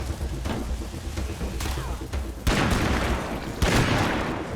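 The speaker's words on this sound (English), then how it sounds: "Who's got the pyro launcher?" A pyro launcher fires in a video game, with loud crackling bursts and explosions rolling over one another in a rapid, noisy barrage.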